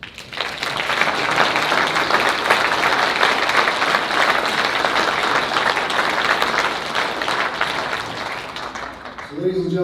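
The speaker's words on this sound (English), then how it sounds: "And I think that in and of itself deserves a round of applause." Sustained audience applause fills a leadership conference hall, a dense, steady wash of clapping from a large crowd lasting nearly ten seconds before tapering slightly at the end.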